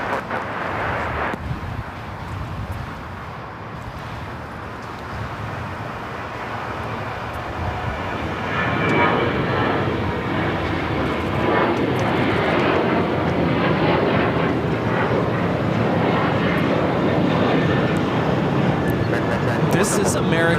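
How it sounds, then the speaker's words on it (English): An American Airlines Boeing 737-800 takes off from runway 25 right at LAX, its engine roar swelling from a steady rumble into a loud, sustained broadband thunder, with people talking over it. "This is American Airlines Flight 1994 taking off to Phoenix on the 737-800."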